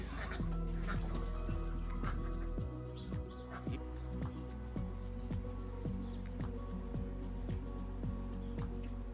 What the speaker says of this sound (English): Listen to the ducks.